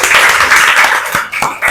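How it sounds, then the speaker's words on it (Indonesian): Applause for a participant at a classroom or workshop session, a short burst of many hands clapping close by, fading slightly near the end. "tepuk tangan untuk Stes"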